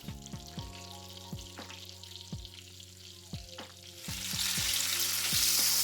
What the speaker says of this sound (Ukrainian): І ось такі красиві чебуреки з капусти вийшли. Смажимо з другої сторони.